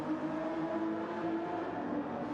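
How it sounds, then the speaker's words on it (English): An old Honda NSX race car in Gran Turismo GT3 lobby racing at Deep Forest, a steady, moderately loud engine whine with sustained tonal drone and no pauses, heard alone without talk. "Plenty of life left in that old NSX."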